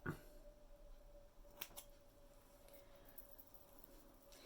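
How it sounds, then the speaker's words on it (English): Scissors snip loose hair ends on a handmade braided hairpiece: a short, quiet snip near the start and another crisp cut in the middle, against near silence. "All of these loose ends I'm going to cut."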